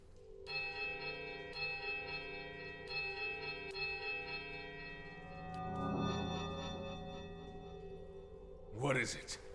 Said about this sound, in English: The sound of the bell, cover your ears,